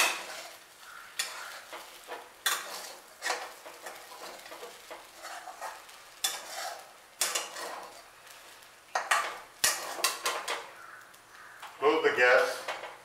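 A kadai of kande pohe is stirred and shaken on the stove, giving scraping and clattering bursts of metal against the pan over a soft sizzle. A voice speaks in between.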